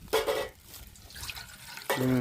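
Pani puri water splashes and trickles between bursts of a voice speaking, the pouring heard close and in the pauses.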